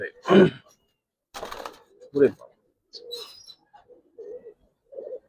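Giribaz pigeons coo in short low throaty bursts with pauses between them, close by, with a voice speaking in between.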